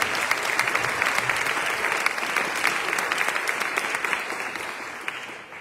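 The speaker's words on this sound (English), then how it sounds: "Let's give them a round of applause." Sustained audience applause fills a lecture hall at the UMBC Hill-Robinson McNair Lecture, a dense steady wash of many hands clapping that stays loud throughout and tapers slightly at the very end.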